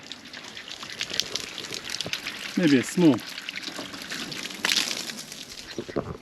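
Water overflowing from a rabbit watering system, heard as a soft, continuous trickle and splash. A voice speaks briefly over it.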